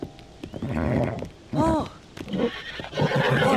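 A horse whinnies loudly with a rising, wavering call, set among softer rustling and movement noises, in the video game Zelda: Tears of the Kingdom.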